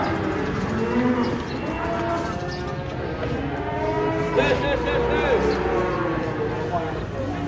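Giant cow bellowing as it comes down from a truck, with repeated loud moos over a busy crowd of voices and talk throughout.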